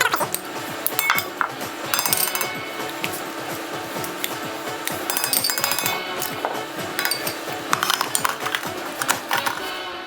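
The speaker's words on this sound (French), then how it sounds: "Nous allons mixer l'ensemble à l'aide d'un fouet dans un bol mélangeur" Wire whisk beating chestnut purée, eggs and butter in a mixing bowl for a chestnut and white chocolate cake: steady, rapid clinking and scraping against the bowl throughout, close and fairly loud, with no talking.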